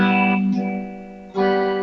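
A Positive Grid guitar pedal's wobble modulation effect colors a sustained electric guitar tone, which swells and dips in a slow wavering pulse before surging back loud.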